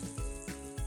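Shimeji mushrooms with a pinch of salt sizzle in olive oil in a deep frying pan over medium heat, a brief close crackle with a few soft stirring bumps.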